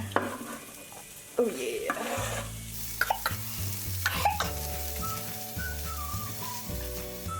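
Onions hit very hot oil in a pan and fry with a continuous sizzle and some stirring, under background music, with a brief spoken remark.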